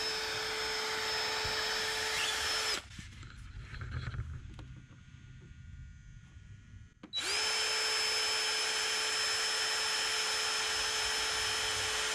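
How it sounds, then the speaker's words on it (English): Power drill pre-drilling screw holes in wood while building a river coffee table, a loud steady whine running alone for several seconds, stopping for a quieter pause with light handling noise, then whirring again just as loudly. "We're gonna pre-drill."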